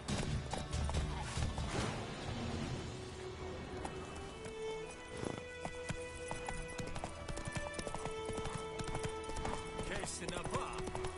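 Horse galloping in the Witcher 3 video game, rapid rhythmic clip-clop of hooves with a whinny, moderately close, under a voice.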